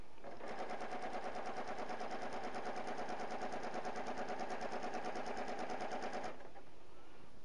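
A sewing machine stitching fabric for a wedding dress robe runs in one continuous rapid mechanical buzz for about six seconds, then stops abruptly, leaving quiet room tone.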